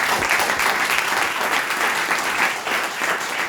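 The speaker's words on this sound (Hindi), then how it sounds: "एक बार जोरदार तालियां हो जाए मेरी प्लान के लिए।" Loud, sustained applause from a seminar crowd, steady clapping filling the whole stretch without pause.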